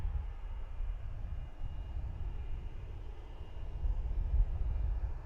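Airplane engine in Microsoft Flight Simulator 2020 on a Spring Airlines route from Jieyang: a steady, low, rumbling drone that swells slightly near the end, with no other sounds.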